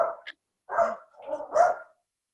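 A dog barks close by during a board meeting, giving several sharp, clear barks in quick succession, loud and heard with no talking over them.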